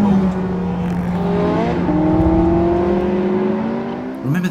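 A Porsche 918 Spyder hypercar's engine howls loudly from inside the cabin on fast hot laps, with pitch rising through the gears, a quick upshift drop near the end, and sustained whirring under acceleration.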